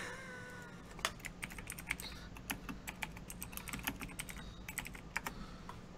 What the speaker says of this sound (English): Why are we arguing over who types the loudest?